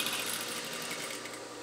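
A sewing machine stitches a sleeve into a garment with a steady, fast, whirring mechanical rattle, running continuously at close range without pause.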